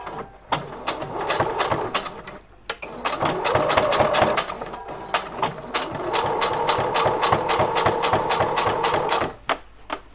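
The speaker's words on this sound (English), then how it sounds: "sew this bottom closed near the edge, as close as you can get." A sewing machine stitches along the edge of a waffle fabric piece, a rapid needle chatter in long runs broken by brief pauses, close and clear.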